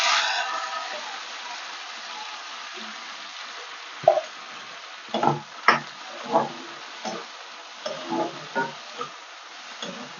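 Coriander leaves frying in hot oil for a Telugu thotakura stem chutney, giving a steady soft sizzle broken by a run of sharp pops and crackles in the second half, close and with no one talking.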